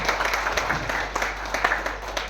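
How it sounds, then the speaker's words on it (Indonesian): Applause from an audience at an LPK HTE class event in a hotel in Semarang, a steady spread of clapping from a crowd, moderately loud and continuous with no voices over it. "Yuk, kasih tepuk tangan yang mulia."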